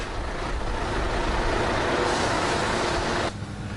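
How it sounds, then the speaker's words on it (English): Garbage trucks at a municipal waste-to-energy plant dumping loads into the waste bunker: a steady, loud roar of heavy engines and rumbling debris that drops off sharply near the end. "120 garbage trucks dump their loads into the waste bunker every day."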